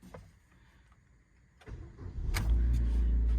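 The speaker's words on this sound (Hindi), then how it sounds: "अब गाड़ी को स्टार्ट करेंगे" A BS-6 car engine starts with the clutch held down and the accelerator pedal untouched, just after a throttle body cleaning. Quiet cabin, then cranking catches and the engine settles into a loud, steady, high idle.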